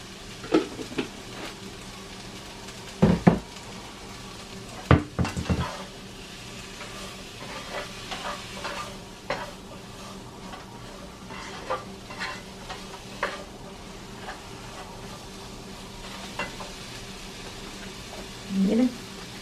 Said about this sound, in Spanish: Ahí estoy sofriendo lo que es el chile verde y el chile rojo.